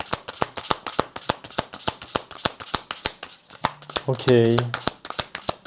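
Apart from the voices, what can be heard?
shuffling tarot cards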